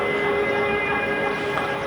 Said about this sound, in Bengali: এখন ট্রেন আসতেছে একটা